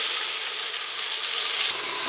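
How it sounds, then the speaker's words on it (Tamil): Onions added to hot oil with mustard seeds and fried dried red chilies, sautéing in a pan for a Tamil murungai keerai pachaparupu rice dish; a steady, close sizzle and hiss throughout, with no talking. "இப்போ நம்ம வெங்காயத்தையும் சேர்த்துட்டு நல்லா வதக்கி விடலாங்க"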